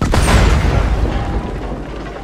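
A single heavy boom from an incendiary shotgun shell in the video game Red Dead Redemption 2, loud and close, with a sharp onset that rolls into a decaying rumble.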